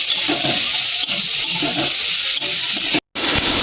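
Coconut and potato frying in a pan, with chillies and flattened rice, make a loud, close, steady sizzle with stirring, interrupted by a very short cut to silence near the end.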